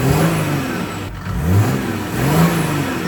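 A Land Rover Defender fitted with a Mercedes OM606 diesel engine being driven, its engine droning loud and close with rising and falling revs through the gears.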